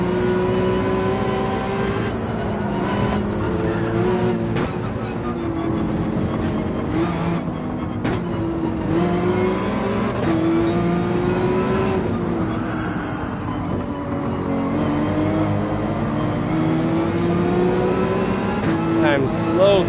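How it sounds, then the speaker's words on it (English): A Mercedes AMG race car in Gran Turismo 7 holds a steady engine drone with rising and falling revs throughout, while a commentator talks over it nearly the whole time. "You can tell by how much that Mercedes just took off on us."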